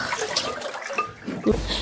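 Flood water in a home basement after melting snow, sloshing and splashing broadband with a short burst of louder splashing near the end, fairly close.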